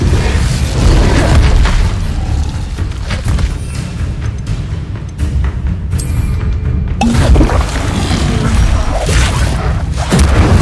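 Fire spell Incendio cast repeatedly during Hogwarts Legacy gameplay, heard as loud booming bursts and crackling blasts amid continuous spell-combat effects, with no speech.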